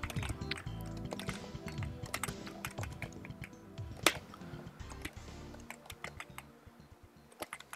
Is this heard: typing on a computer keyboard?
yes